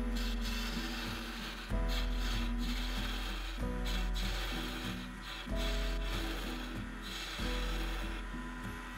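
A wood lathe turning a small wooden snowman's hat, the tool scraping the spinning wood in repeated passes of a few seconds each, a close rubbing and rasping sound with a steady motor hum underneath.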